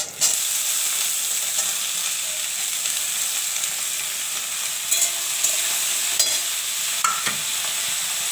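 Bitter gourd with potato and onion sizzles steadily in a hot pan, with a bright continuous hiss and occasional scraping stirs and clicks of a spatula.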